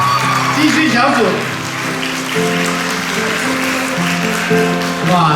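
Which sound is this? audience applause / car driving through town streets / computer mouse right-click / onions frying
audience applause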